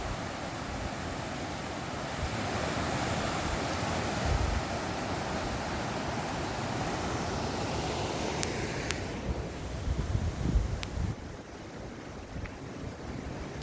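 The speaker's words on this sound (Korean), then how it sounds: "물소리도 시원하게 들리고요." River water rushes steadily at a rafting spot on the Gyeongho River in Sancheong, a constant broadband roar that stays loud and close, with some wind buffeting the microphone.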